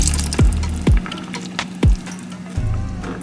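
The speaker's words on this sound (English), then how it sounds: "I'm just going to pour this over the beef" Seasoning liquid is poured over beef short ribs in a pot before braising, with wet splashes and a few distinct squishy glugs over a low continuous pour, heard close up.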